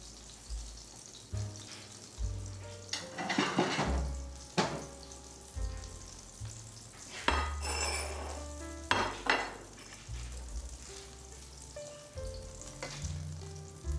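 Browned Salisbury steaks are lifted from a stovetop pan of hot oil onto a plate, with steady sizzling and frying under clinks and scrapes of utensil against pan and plate, plus a few louder bursts of spattering.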